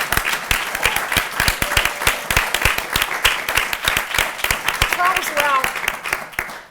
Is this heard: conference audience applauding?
yes